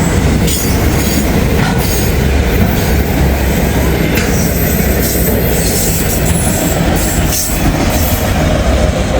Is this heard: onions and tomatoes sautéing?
no